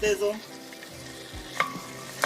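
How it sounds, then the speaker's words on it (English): Brussels sprouts sizzle and crackle steadily as they caramelize in a hot pan, with a few brief clinks and stirring sounds over the continuous frying hiss. "Oh, that sizzle."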